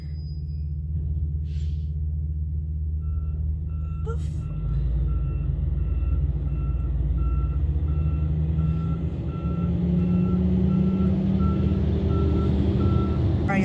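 Reversing beeps from an 18-wheeler truck right in front, a steady repeating tone over a deep, continuous diesel rumble that grows slightly louder near the end; a brief voice and clatter come early on.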